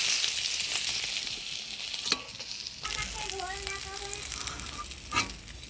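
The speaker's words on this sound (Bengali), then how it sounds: "মুড়াগুলা ভেজে নিই।" Catla fish heads frying in hot oil in a home kitchen, a steady close sizzle with occasional stirring scrapes and spatter pops, no voices over it.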